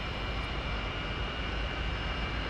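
Jet engine of an F-86 Sabre in the DCS flight simulator spooling up during start, a steady loud whine and broad roar with a thin high tone running throughout, with no speech.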